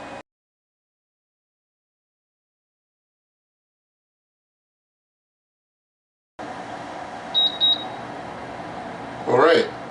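After a long silence, a NuWave Todd English Pro-Smart Grill beeps twice briefly, signalling preheat is done, against a background of low room noise and some movement.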